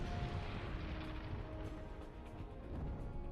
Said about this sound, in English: Flying the plane.